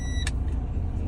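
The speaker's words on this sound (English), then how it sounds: "All right, start the engine." A tractor-trailer truck's engine idles with a steady low rumble, close and continuous, with a brief higher hiss or click partway through.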